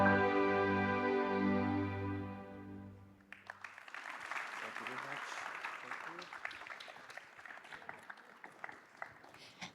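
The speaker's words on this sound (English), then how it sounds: "Please give him a round of applause once again." Applause from a symposium audience at INTEX Osaka breaks out after a sustained sung note ends, a dense crowd of many hands clapping steadily at moderate distance for several seconds.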